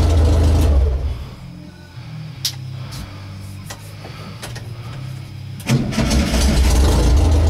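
Old bus engine cranked with the ignition key on a workshop repair project, a steady mid-pitched starter churn before it catches and settles into a loud, rumbling idle nearby.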